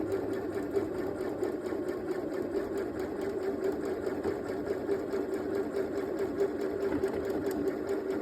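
A small travel sewing machine stitches fabric with a continuous, fast mechanical whirr and rattle that holds steady throughout, close up and with no speech over it.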